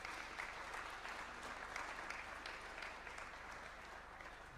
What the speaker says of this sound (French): je crois qu'on peut encore vous applaudir